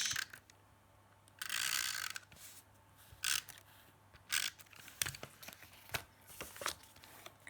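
A roll of scotch tape is handled close up during paper card crafting, with short bursts of sticky peeling and crackling tape strips separated by quiet gaps.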